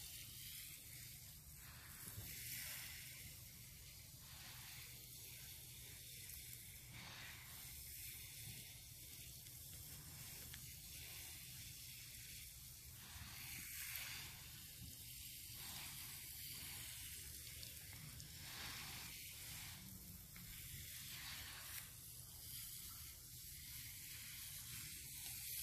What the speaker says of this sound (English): I'm just watering it in a little bit here, which is going to pack it down.